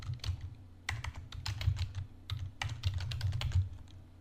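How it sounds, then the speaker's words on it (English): Rapid typing on a computer keyboard, with clusters of crisp key clicks and thumps in irregular bursts and short pauses, close and fairly loud, with no speech. "Typing out the entire thing."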